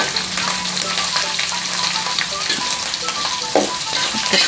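Small anchovies sizzle and crackle steadily in hot oil, close up, with occasional scraping of a utensil stirring the pan.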